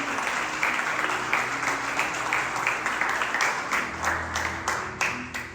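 Church audience applauding during a sermon, a sustained crowd clap with a rhythmic pulse to it, fairly loud and continuous, with a low hum running underneath.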